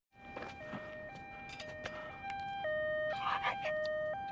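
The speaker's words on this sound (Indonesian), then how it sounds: "Yang dinyalakan malah sirine ambulan." An ambulance siren cycles through stepped two-tone wails, loud and close, with background noise underneath and no talking.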